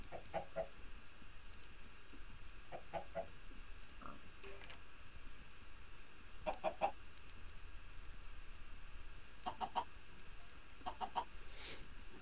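Minecraft chickens cluck in short scattered bursts over a quiet, steady background hum, with no talking.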